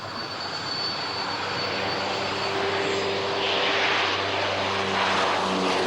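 A French Navy Hawkeye propeller aircraft at an air show runs power up on one engine, giving a loud, steady droning roar with a buzzing tone. The sound rises a little as it goes on.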